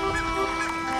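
Greylag geese honking in a steady, busy stretch, several overlapping calls with a constant hum underneath, moderately loud and close.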